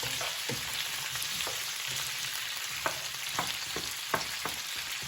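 Red potatoes fry in bacon grease, a constant loud sizzle with a few soft knocks and scrapes as they are tossed around in the pan, no voices.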